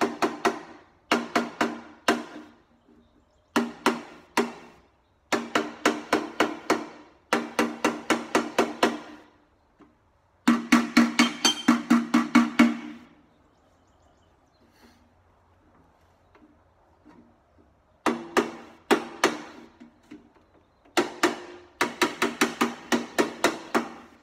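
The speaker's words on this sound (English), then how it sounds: "Notice how I'm using really light hammer" Light metal hammer taps on copper in rapid rhythmic runs of ringing strikes, broken by short pauses, close and clear with no voices.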